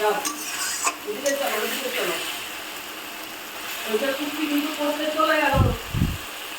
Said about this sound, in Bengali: এই যে মশলাটা দেখো কষাচ্ছি আমি